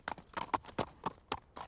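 Animated horse hooves clip-clop in a quick, even trot, with about half a dozen crisp, close strikes in under two seconds.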